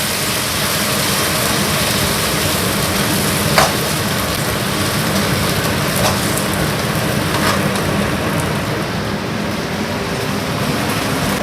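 Banana heart sizzles steadily in a pan while being stir-fried, a constant dense hiss with faint clinks of the utensil now and then.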